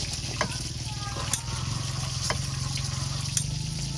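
Vietnamese fish cakes sizzle steadily in an oiled pan, with a continuous bubbling crackle and occasional sharp spits and pops, while voices murmur faintly in the background.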